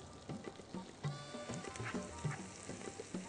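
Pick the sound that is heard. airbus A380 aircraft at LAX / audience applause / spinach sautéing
spinach sautéing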